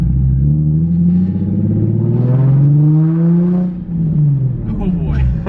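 Loud Nissan 350Z exhaust droning steadily while driving on a street, a deep continuous rumble that rises and falls with throttle, with exclamations from people inside the car over it.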